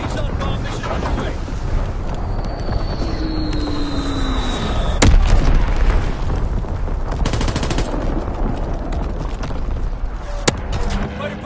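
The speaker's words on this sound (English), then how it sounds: "Firing primary battery." Primary battery artillery fires in a PS4 video game, booming blasts within constant rumbling game noise, with one sharp, loud burst midway and another near the end, while in-game voices chatter.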